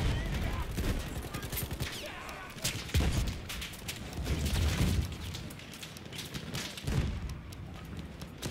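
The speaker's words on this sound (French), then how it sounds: "C'est une mitrailleuse ennemie." Enemy machine gun fire in Battlefield 1, a long stretch of dense rattling gunfire mixed with thuds and explosions at mid distance, with faint voices in the background.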